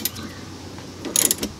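A gear wrench ratchets on a nut on a 2000 Honda Insight barn find, with a faint mechanical creak followed by a short, close burst of rapid ratcheting clicks.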